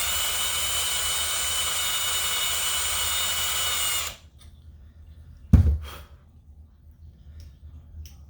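Drill boring into a Zenoah RC helicopter engine flywheel to balance it, a steady loud whine for about four seconds that stops abruptly, followed by a single sharp clunk and quiet handling noises.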